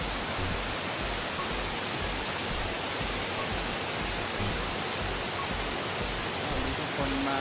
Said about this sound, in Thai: น้ำตกแม่พูน